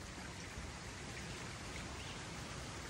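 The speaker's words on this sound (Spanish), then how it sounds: "Mira cómo cae el agua, José Miguel, cae de arriba" Water trickling and splashing down from above in a thin stream on a countryside farm in the Dominican Republic, a steady close wash of patter and spatter that runs unbroken throughout with no talking.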